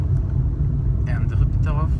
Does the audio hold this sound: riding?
yes